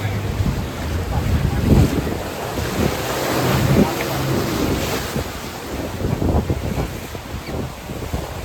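Rough sea waves surge and crash around a small boat on a ride off the Konkan coast near Nivati lighthouse at Malvan, with constant wind buffeting and engine rumble underneath.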